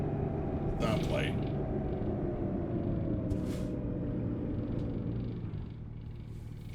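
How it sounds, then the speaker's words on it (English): A truck in American Truck Simulator rumbles along at low speed, with a sharp hiss of air brakes near the start and again around the middle, before the engine drone fades out near the end. "The brakes work just fine."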